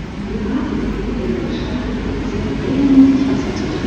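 Paris metro train running through a station, a steady low rumble of wheels and motor that swells slightly toward the end, with no talk over it.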